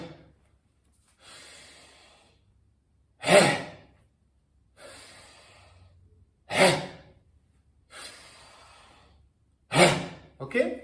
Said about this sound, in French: On inspire.